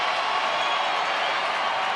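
A steady wash of crowd noise fills a baseball stadium during a Twins at Rangers game, with just over 36,000 fans on their feet, a broad continuous roar without distinct claps or a voice on top.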